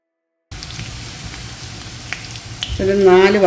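Onions fry in two or three tablespoons of oil for Schezwan chicken, a dense close sizzle that starts abruptly after a short silence and swells louder toward the end with a brief voice over it.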